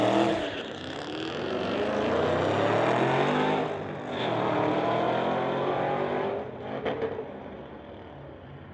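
A Mustang and a Jaguar street-legal car launch in a drag race, their engines roaring loud and rising in pitch through the gears, then easing off as they pull away.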